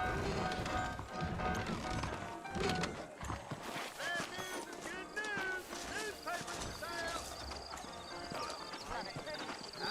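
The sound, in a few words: horses' hooves, Red Dead Redemption video game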